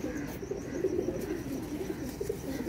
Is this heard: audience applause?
no